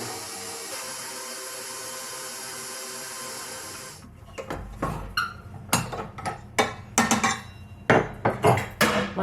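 Spinach worked into flour for pasta dough with a utensil in a bowl, heard as close, irregular knocks, taps and clinks after a steady machine hum cuts off, with no talking.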